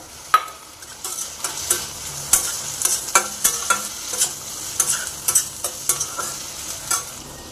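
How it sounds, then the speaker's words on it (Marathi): Ginger, garlic and soaked cashews fry in a pan while being stirred, giving a steady close sizzle broken by repeated sharp scraping and clinking strokes about every half second. Nobody speaks. "ब्राऊन कलर होईपर्यंत फ्राय करून घ्यायचे।"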